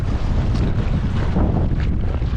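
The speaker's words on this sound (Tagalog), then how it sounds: "Grabe, lakas ng hangin mga bay." Strong wind buffets an open boat out on the sea near a fish trap, a dense, steady roar of gusts and microphone rumble with faint water noise and no voices.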